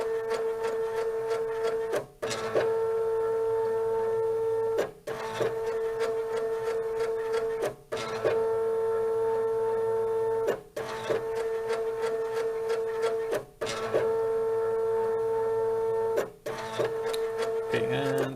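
An Arduino-controlled electronic lead screw on a lathe moves 10 mm and returns, giving a steady tonal stepper-motor whine that cycles repeatedly with brief pauses between moves.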